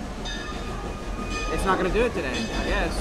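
A train rumbles steadily past behind a fall harvest event at Silver Dollar City in Branson, Missouri, a loud continuous clatter with tonal squeals, while a person talks over it.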